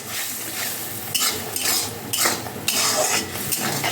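A spoon scrapes and clatters in a pan of simmering radish greens curry, with rhythmic stirring strokes over a soft sizzle, close and without voices.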